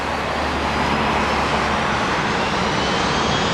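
American Airlines jet airliner engines roaring at full power on the takeoff roll at San Diego airport, a loud, steady, broadband rush close by with no voices.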